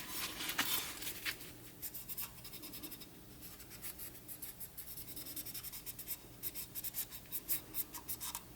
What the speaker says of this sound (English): Mark both sides so I know right where to cut.